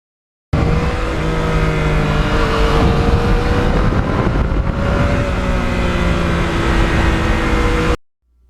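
Yamaha MT-09 motorcycle engine running loud and close for about seven seconds, its revs rising and falling in steady sweeps, with no talking.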